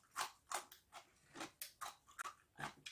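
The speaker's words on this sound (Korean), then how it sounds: "무장아찌를 무쳐봤어요. 되게 아삭아삭한 소리가 들리죠." Crisp crunching bites of seasoned pickled radish jangajji, cured in soy sauce and corn syrup, heard as a quick irregular series of close, quiet snaps with no talking.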